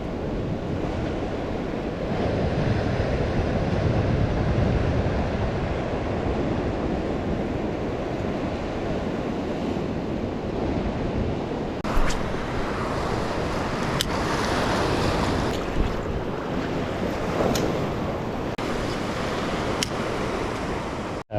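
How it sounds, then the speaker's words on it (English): Ocean waves break over coastal rock pools on the Central Coast of New South Wales, a continuous rushing wash mixed with gusty wind buffeting, with a few sharper splashes toward the end. "I can see a boulder out just where those waves are breaking now."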